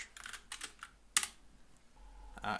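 Computer keyboard typing while writing code for a simple online game: a few scattered clicks and short bursts of keys, one sharper clack, close up and with no voices.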